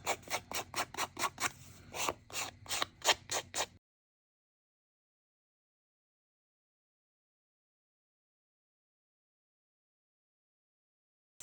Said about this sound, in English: you can use an emery board to rough up your edges.